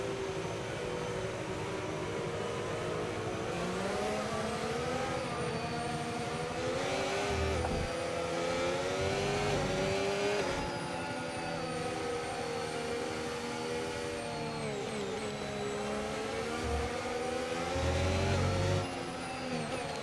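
Several F1 race car engines drone and whine together during a formation lap at the Hungarian Grand Prix in F1 25, steady revving pitches rising and falling continuously with no talk.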